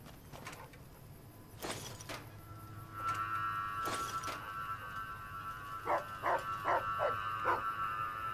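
Dogs in a video game give a quick series of short, mid-loud barks near the end, over a steady hum of game ambience with occasional thuds earlier.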